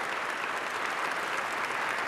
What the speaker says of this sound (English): can we give Jenny a round of applause for awesome?